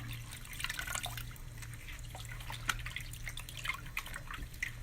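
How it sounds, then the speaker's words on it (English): Running water splashes and drips steadily as drying plaster is rinsed off a trowel under a tap, a continuous close trickle with a low hum underneath and no talk. "See how the plaster is starting to dry on my trowel? Let's just wash it."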